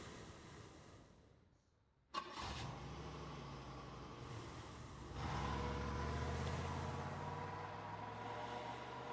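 A stolen car's engine cranks and catches after a quiet lull, with a sharp start followed by a steady idle. Partway through it swells into a louder, rougher run that holds to the end with no voices.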